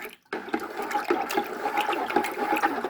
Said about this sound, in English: Let me stir up this one and show you what it look like.